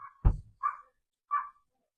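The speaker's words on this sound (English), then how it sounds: "That's probably why my dogs are barking." Dogs inside a house give a few short, sharp barks from upstairs, three quick isolated yips with silence between them.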